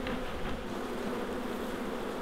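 A swarm of bees in a shed buzzes as a steady, dense drone, close and continuous, with no voices over it.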